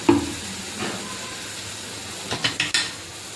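Whole spices roast in a pan for a chicken dish, giving a soft steady sizzle and hiss close by, with a few quick stirring scrapes near the end and no speech.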